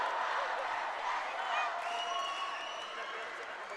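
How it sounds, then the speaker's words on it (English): A college basketball crowd at a JRU Heavy Bombers vs San Beda Red Lions game keeps up a broad, distant roar with scattered clapping and cheering, and a commentator talks faintly underneath. "Let's listen to the crowd."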